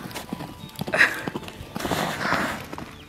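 Hooves of a mustang clip-clop at a walk in a liberty training session, a steady, moderately close rhythm of light hoof strikes over a soft background.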